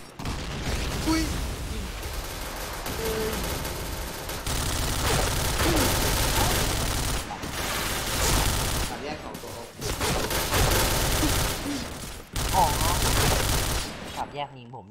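Gunfire in the Point Blank shooting game comes as dense, sustained bursts of rapid shots over several seconds, broken by brief pauses, loud and close, with a player talking over it.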